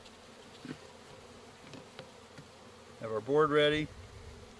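Bees buzzing around a hive while it is opened, a steady close insect drone throughout, with a person briefly speaking near the end.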